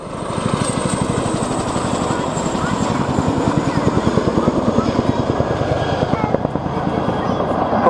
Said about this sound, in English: This waka waka sound is synonymous with Chinook and leads to our popular Twitter hashtag, BladeSlap.